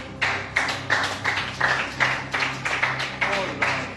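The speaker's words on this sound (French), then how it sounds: "Ah, moi, j'applaudis." Repeated hand claps from a small group or a single person, a quick run of sharp slaps at a steady beat, fairly close, with a faint voice underneath, on a French reality show.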